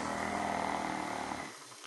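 A man snores at night, one long raspy rumbling breath lasting over a second, close and fairly quiet, then the sound drops off.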